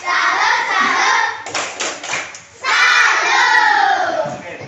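A group clapping chant, rhythmic hand claps with voices shouting in unison, led in a classroom or school gathering; bursts of claps alternate with loud group chanting, close and dense.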